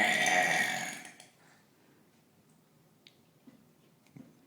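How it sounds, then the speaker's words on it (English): A person lets out a loud, rough burp that fades after about a second, followed by quiet room sounds with a few faint clicks. "It should be championship burping."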